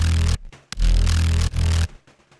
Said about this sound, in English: you just have like a really distorted bass line